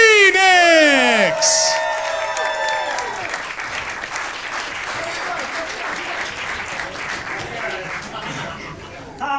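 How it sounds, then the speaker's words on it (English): Wrestling crowd at a Santino Brothers Wrestling show roaring with cheers, whoops and applause, loud and close at first, then settling into a steady wash of clapping and crowd noise for several seconds. "They're cheering louder than your booze."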